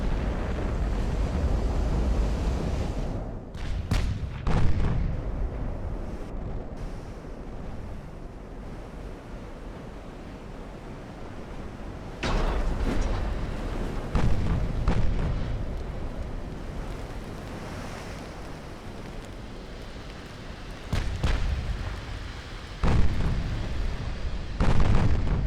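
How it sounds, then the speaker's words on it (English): Heavy naval gunfire in Ultimate Admiral: Dreadnoughts, a battleship's ten 18-inch guns firing high-explosive shells, with several loud, booming salvos separated by long pauses and a steady rumbling sea-and-wind ambience in between. "And then we're going to fire HE and see what happens."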